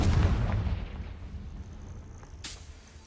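A Confringo blast in Hogwarts Legacy hits with a loud booming roar that decays over a couple of seconds, followed by a sharp bright crack near the end.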